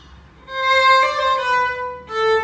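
A bowed string instrument plays a measure from a Brahms waltz, sustained clear notes that begin after a short pause, with a bow change and a new pitch near the end, heard alone.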